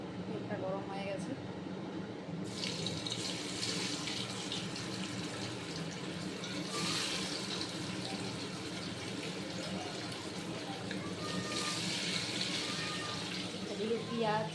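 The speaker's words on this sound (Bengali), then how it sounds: "এবার ভাজবো পনিরটা।" Paneer coated in egg and salt fries in hot oil, giving a steady, dense hiss and crackle that runs unbroken through the whole stretch.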